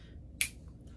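A single sharp finger snap, close and crisp, standing alone in a quiet room.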